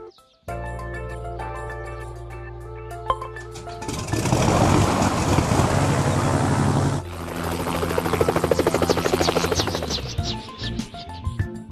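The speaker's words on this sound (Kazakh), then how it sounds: "Ұшақ." An airplane roars loudly and steadily for several seconds, its broad engine noise shifting in tone partway through before fading out near the end.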